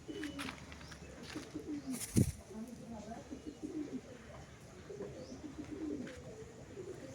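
Soft, rumbling coos from a group of white Mundi Jiriya pigeons at a Giribaz pigeon sale in Ashoknagar, faint and continuous beneath a man's speech.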